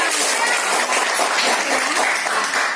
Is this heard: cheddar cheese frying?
no